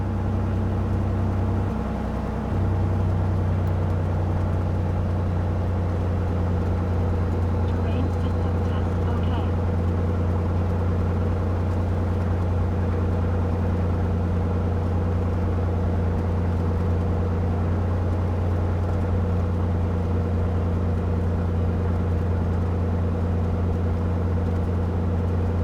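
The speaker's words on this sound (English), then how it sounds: "I need to put the engine on 1200 RPM so that the oil temperature comes to" An aircraft engine runs at a steady 1200 RPM during inspection, giving a constant low droning hum with stable tones that never rise or fall, while a person talks over it.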